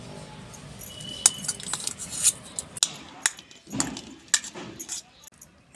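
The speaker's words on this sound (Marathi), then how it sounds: "ही आता मी कुस्करून घेते." Boiled potatoes being mashed by hand in a metal vessel for a home-style vada pav filling, with irregular scraping, clinking and squishing knocks of varying loudness, up close.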